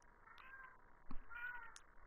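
A cat in heat gives drawn-out, wavering meows, faint and indoors, with a short sharp knock partway through and no talking.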